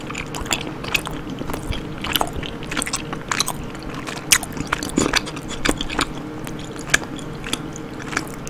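Food is chewed very close to the microphone during an ASMR food challenge, with continuous wet squishing, crunching bites and clicking mouth sounds in an irregular rhythm, loud and intimate with no talking.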